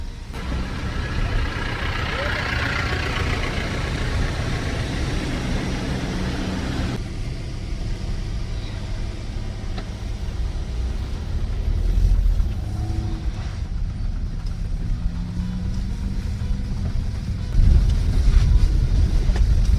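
Steady road traffic at Sissu in the Manali valley: vehicle engines rumble and pass at moderate distance in a continuous wash, with a few louder swells toward the end and no talk.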